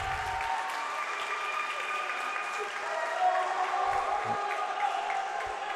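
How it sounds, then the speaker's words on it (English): Spectators clapping for a girls' swim team at an indoor pool during a high school meet, a sustained, moderately distant wash of applause with a little crowd murmur. "a nice round of applause for the girls"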